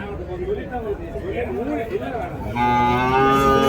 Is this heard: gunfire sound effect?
no